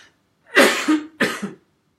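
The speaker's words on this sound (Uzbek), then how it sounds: "Bu bir aydan beri qattiq yo'talman" Two sharp, harsh coughs from one person, close and loud, about half a second apart, with no talk around them; the cougher has had a severe cough for about a month.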